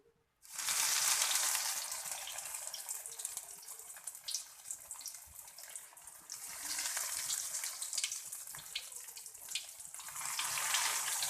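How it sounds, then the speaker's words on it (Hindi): Potato-filled bread rolls drop into hot oil and burst into a loud, dense, crackling sizzle that holds steady, dips slightly midway, then swells again, close and continuous with no voices. "ऑयल हमारा गर्म हो चुका है। अब हम इसमें जो अपने रोल फ्राई करेंगे।"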